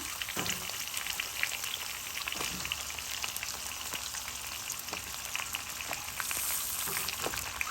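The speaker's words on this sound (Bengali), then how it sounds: "এখন ওই ফোড়নের ভিতর কেটে রাখা লাউ মূলা" Cut bottle gourd and radish dropped into hot spiced oil, frying with a steady, close crackling sizzle and scattered sharp pops throughout, no talking.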